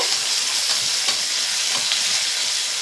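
Sliced onions and green chilies fry in oil in a pan, producing a loud, continuous close-up sizzle with faint stirring scrapes and no speech.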